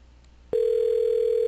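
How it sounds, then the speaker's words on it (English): A telephone call to a virtual fax line rings as a single loud, steady tone that begins abruptly after a brief quiet moment and holds to the end. "It's ringing."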